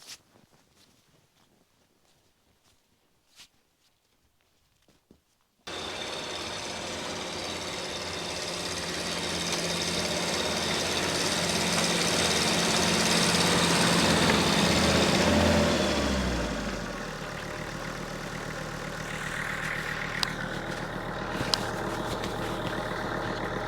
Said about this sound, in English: You want to see the snowplow and hear the tractor, not me.